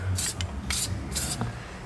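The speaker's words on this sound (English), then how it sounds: "got the CRC 808 silicone, just spray up the taped area, makes it more lubry and goes through easier." CRC 808 silicone lubricant from an aerosol can, sprayed in three short hissing bursts onto a taped area, with brief pauses between them.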